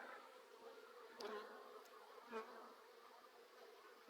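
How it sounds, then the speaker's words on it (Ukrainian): Soft, steady buzzing of many honeybees flying close by, with a couple of brief louder passes as bees zip near. "Тут таке враження, так ніби рій літає."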